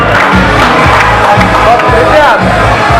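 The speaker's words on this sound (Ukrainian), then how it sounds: "Аплодисменти так само прозвучать для Андрія Анісяна" Crowd at a boxing evening cheering and applauding loudly, a continuous roar of voices and claps close around, with a voice calling out over it.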